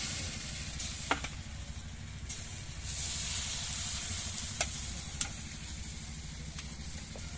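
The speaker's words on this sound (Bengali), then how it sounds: "কড়াটা একটু ভালো করে গরম করে নিয়েছি তেল দিয়ে। এবার ডোটা দিয়ে দেবো।" Rice flour batter sizzles steadily in hot oil in a heated pan, a continuous close frying hiss broken by a few faint clicks and clatters of utensils.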